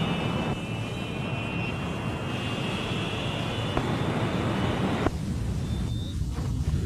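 A small fixed-wing airplane's engine roars steadily at full power during the takeoff roll, a loud continuous drone with a high whine that cuts out partway through while the low rumble carries on.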